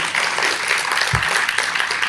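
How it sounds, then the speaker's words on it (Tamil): An audience at a Tamil talk claps steadily, a loud, continuous patter of many hands with one low thump partway through. "நல்ல கைதட்டுங்களே, ஏன் அவ்வளோ சோர்ந்துட்டீங்க?"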